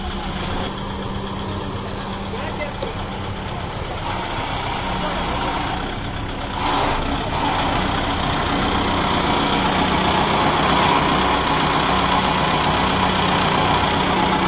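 A Kubota MU5502 tractor engine idles steadily throughout, a loud, close, low rumble with a continuous mechanical drone and slight knocking.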